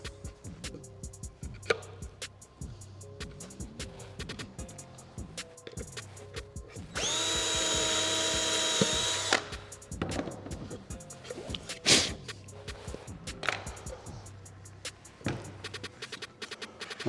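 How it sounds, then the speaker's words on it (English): A power drill whines loudly and steadily for a couple of seconds as it bores through wood at full speed, framed by scattered knocks and clatter from handling tools. "I do this full speed with the drill because then I have a nice surface also."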